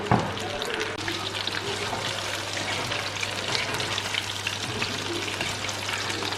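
Chicken 65 deep frying in hot oil, a loud, dense, continuous bubbling sizzle close by that holds steady throughout.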